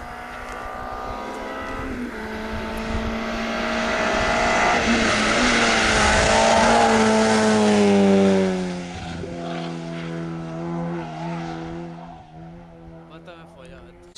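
A rally car at the 2008 Villajoyosa rally approaches at speed. Its engine note swells loud and then drops away as it passes and fades into the distance.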